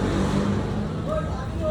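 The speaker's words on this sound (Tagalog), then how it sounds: "Yan po, ang daming sasakyan ngayong gabi na." Steady road traffic at night, a continuous wash of car engines and tire noise with vehicles passing close by, fairly loud throughout; a faint voice may sit underneath.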